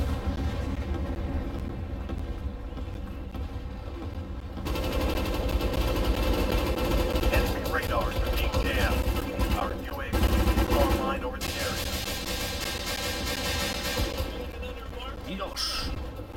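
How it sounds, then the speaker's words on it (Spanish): Sustained gunfire in a Warzone-mode match of the World War 3 video game, dense rattling bursts that grow louder and then ease off, with game engine noise underneath. "Menudo tiroteo"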